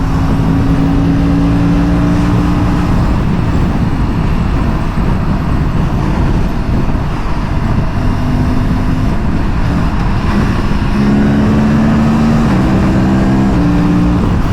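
An Aprilia RS 457 motorcycle pulls hard on a freeway, its engine droning loud and close under heavy, constant wind roar, with the pitch climbing in steps as it accelerates and shifts.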